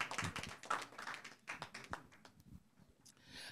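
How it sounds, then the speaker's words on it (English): Scattered hand claps from a small audience at a Christian faith tour gathering in Little Rock, quiet and fairly distant, forming a loose, uneven patter that thins out toward the end. "Give a round of applause"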